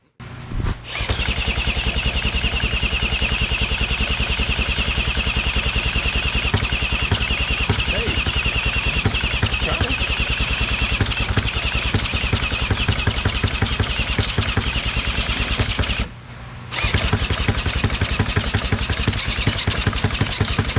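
A 1976 Johnson 15 HP outboard motor, long abandoned, fires up and runs loud and steady with a fast buzzing beat, briefly cutting out before catching again near the end.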